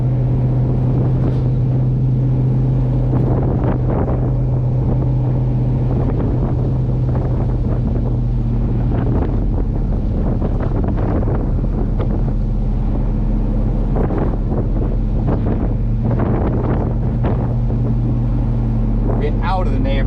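A cammed LQ4 Silverado with open exhaust cutouts rumbles at light throttle around 2100–2200 RPM, a loud continuous low drone mixed with heavy wind buffeting while someone talks over it.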